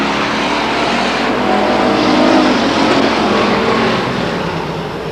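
Pure stock race cars roar around a speedway after a spin on turn 2. The dense engine noise stays loud and close, swelling slightly midway and then easing off.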